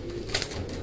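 A short pigeon coo among kept pigeons, soft and brief against a steady background hiss, with no talk over it.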